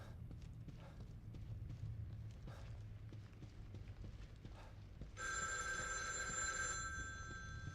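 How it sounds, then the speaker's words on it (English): A telephone rings in the horror game The Evil Within 2, a bright trilling ring that starts after several seconds of low ambient rumble and footfalls and continues to the end. "Ooh, phone calls."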